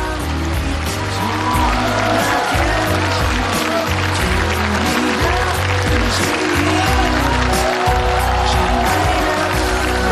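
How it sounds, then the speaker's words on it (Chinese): A studio audience at a matchmaking show applauds in a sustained, dense burst of clapping that continues evenly for about ten seconds, with faint crowd murmur beneath. "来，让我们掌声送给一对有缘人。"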